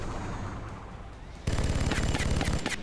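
Gunfire in XCOM Long War erupts halfway through as a loud, rapid burst of shots with sharp cracks, following a quieter stretch of game ambience.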